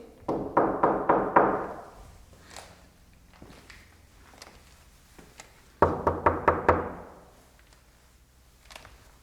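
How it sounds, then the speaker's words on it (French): Knocking on a wall or door: two clusters of about five quick, hollow knocks each, close and loud, separated by a few seconds of near quiet with faint scattered taps. "Donc, je vais frapper."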